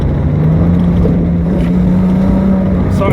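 A 1973 Datsun 240Z drives hard through back-road corners, its engine droning loud and close with a steady pitch that climbs slightly, and the noise stays continuous throughout.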